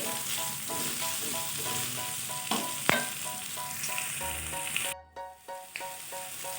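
Green chilies and aromatics stir-fried in a pan for tripe with green chili, giving a loud steady sizzle with rhythmic spatula scraping and occasional clanks against the pan.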